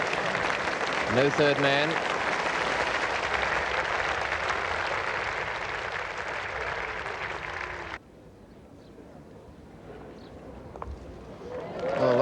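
Cricket crowd at a 1977 Test match between Australia and England in England, applauding an opener's boundary; loud sustained clapping and cheering over commentary, then cutting off to a quieter ground murmur.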